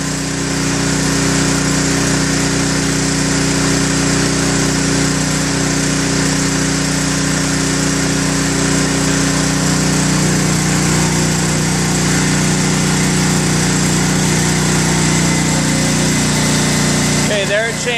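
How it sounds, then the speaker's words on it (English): A waste oil furnace's oil pump hums and whirs steadily up close, loud and continuous with a faint shift in tone as it loads up with oil, while someone talks over it. "You'll also hear a change in the pump."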